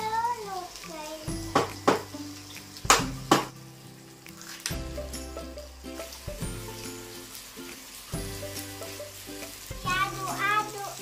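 Fried rice with carrot and broccoli being stirred in a pan during children's play cooking, with soft scraping and light sizzle under children's voices and sharp clatters of utensils.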